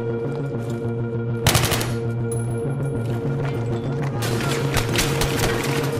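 Rapid automatic gunfire in Battlefield 3 co-op play, bursts of sharp cracking shots over a droning background, one burst early and a longer sustained volley near the end.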